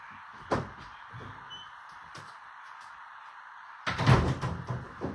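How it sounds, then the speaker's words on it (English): A door thuds shut once, followed by quiet room tone, then a louder clattering door close with a rattle a few seconds later. "I've got to close the doors"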